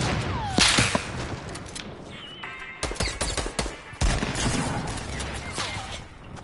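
Rapid pump shotgun blasts in Fortnite, a series of sharp loud cracks and bursts in quick succession amid game effects, with no talking.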